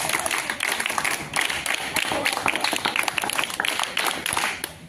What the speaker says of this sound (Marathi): टाळ्या झाल्या पाहिजे, क्लॅप्स गो